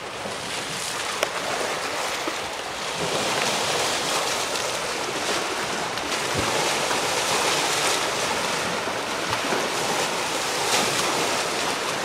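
Waves on Lake Erie wash steadily in a broad, continuous roar heard from well above the lake, mixed with wind buffeting the microphone and no voices.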